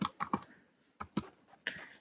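Short bursts of computer keyboard typing, a few quick clustered keystrokes followed by a pause and another brief run, quiet and close with no talking.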